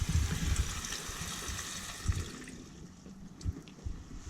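City water flows through the plumbing of a 2020 Coachmen Beyond 22C RV, flushing out pink antifreeze. It makes a steady rushing splash that softens partway through, with a few light drips and gurgles.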